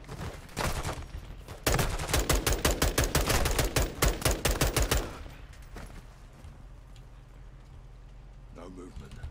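Rapid bursts of automatic gunfire in a video game, a long string of evenly spaced shots dumping a full magazine, loud and close, with a single shot just before and quieter game ambience after.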